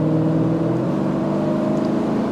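A BMW E90 M3 engine hums steadily as the throttle is pressed, a smooth continuous mid-pitched drone heard from inside the car, with no voices.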